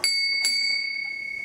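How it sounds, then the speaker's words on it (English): A special bell at the UGA Veterinary Teaching Hospital rings out with two clear strikes about half a second apart, its bright metallic tone sustaining and slowly fading between and after the hits. "the UGA Veterinary Teaching Hospital now has a special bell with an important legacy"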